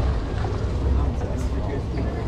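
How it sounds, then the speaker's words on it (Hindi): Speedboat powered by three Honda 250cc engines on the Andaman Sea between Phi Phi Island and Phuket, a loud low engine roar mixed with wind and water rush, close and continuous. "यहाँ पे होंडा के 250 cc के तीन इंजन थे"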